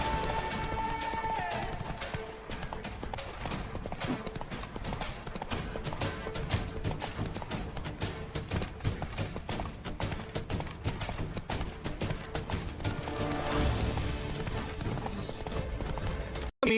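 Roach, Geralt's horse in The Witcher 3, gallops in fast, steady hoofbeats, with a brief neigh at the start and a voice near the end.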